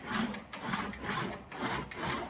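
Steel panel rolled back and forth through an English wheel in a metal-shaping shop, a steady rubbing, rolling scrape that swells and fades in regular passes about every half second, close and continuous with no talk.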